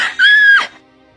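A person lets out a single short, loud, high-pitched scream lasting about half a second, close and alone, then silence.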